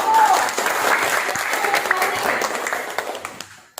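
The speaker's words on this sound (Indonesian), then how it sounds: "Tepuk tangan untuk kelompok 1." Applause for the first student group after a classroom blood-plasma model demonstration, a dense burst of clapping from a class that holds steady and tapers off near the end, with some voices mixed in.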